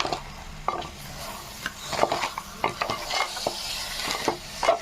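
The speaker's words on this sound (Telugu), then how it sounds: "వేసి అన్నీ కలిపి ఒకసారి మిక్స్ చేద్దాం" Crab curry masala being stirred in a pan, with irregular scrapes and light clinks of a spoon over a low background sizzle, close and fairly quiet, with no talk.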